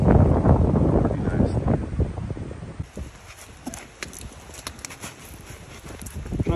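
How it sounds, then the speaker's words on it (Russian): Strong wind gusting at a snowy winter camp in an Oregon mountain blizzard, loud buffeting roar against the microphone that is heaviest at first, then eases into lighter rustling gusts. "Ветер дует хорошенько."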